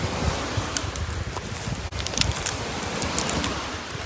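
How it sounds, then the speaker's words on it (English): Steady wind blowing across a microphone outdoors during a live stream, a continuous broadband rush with faint rustling and no clear speech. "I wanted to ask you if the wind is a big problem for hearing the live stream."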